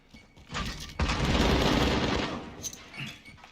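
A grenade blast in the Call of Duty video game, a sudden heavy burst that rumbles on for over a second amid rattling gunfire, fading into quieter battle noise.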